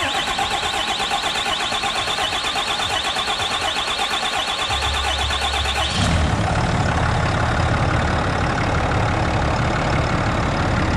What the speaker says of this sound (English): so crank her again